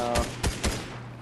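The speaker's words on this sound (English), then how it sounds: "You're getting shot at by IO guards, dude." Gunfire from IO guards in the Fortnite video game: three distinct bursts of shots in about a second over steady game background, with no talk.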